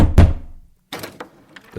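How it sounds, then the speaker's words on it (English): A door opens with a heavy thunk, then a softer creak and light knocks after a short pause, close and brief with no voices. "The door slowly opened."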